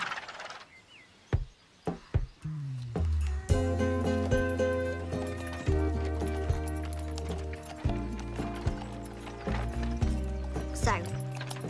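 Hooves of a grey horse clip-clop along a road, with a few sharp separate strikes first. A steady trot then continues under swelling orchestral music.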